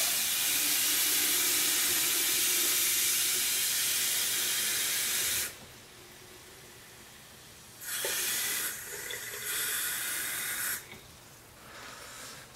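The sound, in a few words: water being poured into a measuring beaker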